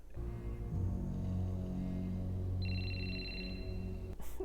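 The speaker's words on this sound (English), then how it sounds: "Somebody answer the phone." A telephone rings in a movie scene, a faint electronic ring sounding over a low steady rumble, with a brief sharp noise near the end.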